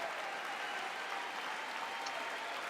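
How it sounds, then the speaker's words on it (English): Faint, sustained applause from a large audience in the State of the Union chamber, a steady wash of many hands clapping heard from a distance. "Let the Democrats give him an applause."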